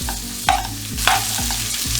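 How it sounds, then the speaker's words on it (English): Loud, steady sizzling of vegetables frying in a hot pan, with a few clattering stirs at regular intervals and no talking. "So on that high heat, get these stir frying for 3 to 4 minutes."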